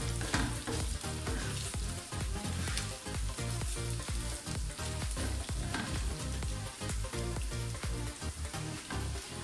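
Chicken malai boti pieces sizzle and crackle on a hot tawa, a dense, continuous frying hiss with a faint rhythmic stirring beneath it.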